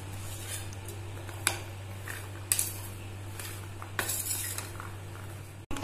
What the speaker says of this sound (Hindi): अब हम इसे अच्छे से मिला लेते हैं।